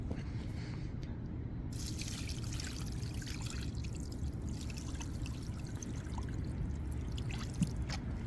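Water from a bucket, about 1.5 gallons, splashes and pours onto permeable pavement outdoors, giving a steady broadband rush with brief brighter splashes partway through, continuous and fairly loud with no talking.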